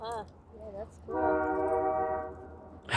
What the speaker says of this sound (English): Don't have to usually deal with train sounds in the video.